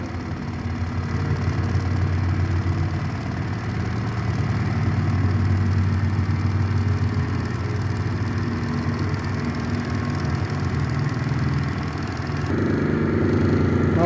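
A gyroscope apparatus motor runs steadily at 1500 rpm, giving a continuous, fairly loud low mechanical hum and drone with a slight shift in tone near the end, no talking.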